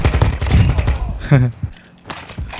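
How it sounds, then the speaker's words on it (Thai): A bot's gunfire in Call of Duty Warzone 2.0: rapid bursts of shots with dense crackling early on, then scattered later shots, mixed with game sounds and brief voice. "เหมือนมีคนยิงข้างหลังผมเลยวะ เนี่ยเนี่ยเนี่ยมันคนหรือบอดยิงอะ"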